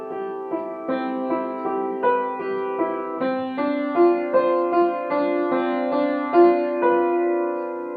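A piano plays two lines of a simple ballet-class exercise together with the sustain pedal held, giving a steady, evenly paced sequence of ringing chords that blend into one another, played alone with no talking.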